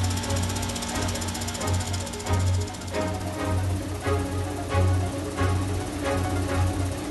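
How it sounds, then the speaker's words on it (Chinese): A cartoon unicorn-horn drill powers up in a children's animated show, a loud, steady, rapid mechanical hammering like a jackhammer that pulses throughout, with no talking. "独角电钻启动。"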